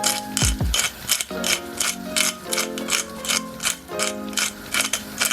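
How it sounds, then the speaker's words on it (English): Black pepper cranked through a pepper grinder, a rapid run of dry ratcheting clicks in a steady repeating rhythm, close and loud with no talk. "black pepper in its actual grinder"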